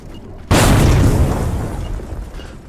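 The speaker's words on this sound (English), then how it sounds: "Frag grenade set!" A frag grenade explodes in the video game The Finals with one loud, close boom that hits suddenly and then rumbles away over about two seconds.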